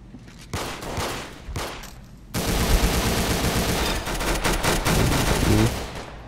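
Rapid gunfire from the Roblox game Arsenal: sparse shots at first, then a dense, loud stream of automatic fire that runs unbroken for several seconds.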